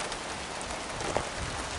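Rain falls steadily on an old 1970 Mercury Cougar, an even, soft broadband patter that holds constant throughout, with one brief brighter tap near the middle.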